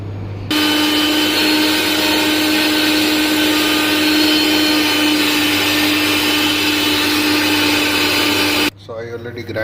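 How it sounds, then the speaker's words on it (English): A mixer grinder runs at a loud, steady whine while grinding onion, humming continuously for about eight seconds before cutting off abruptly, followed by a brief moment of quieter noise. "we have to grind in mixie"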